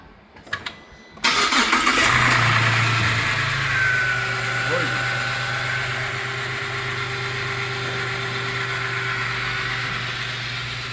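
A Holden Rodeo V6 engine, freshly fitted with a new timing chain, cranks briefly and catches, then settles into a steady, fairly loud idle with a constant mechanical hum, close up and with no talking over it.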